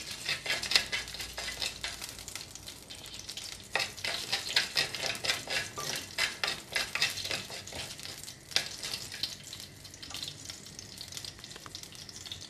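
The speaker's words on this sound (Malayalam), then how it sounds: "ഉഴുന്ന് പരിപ്പും പിന്നെ കുറച്ച് വറ്റങ്ങളും ഒന്ന് വഴറ്റി കൊടുക്കാം" Urad dal and other seasonings sautéing in a pan for a Kerala-style squid thoran, with a steady sizzle broken by repeated scraping stirs of a spoon, close and fairly loud, no voices.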